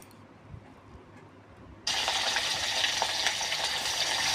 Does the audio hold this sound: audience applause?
no